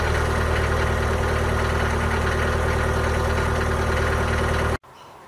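A Toyota BJ40 diesel engine idles with a loud, steady, rough clatter and low throbbing rumble, running close and alone before stopping suddenly near the end.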